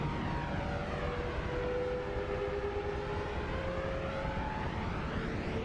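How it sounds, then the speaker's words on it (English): A steady roaring jet whoosh plays as a Noita character travels very fast, a continuous loud vrooming drone with a slowly shifting tone and no talking. "You hear our classic jet sound."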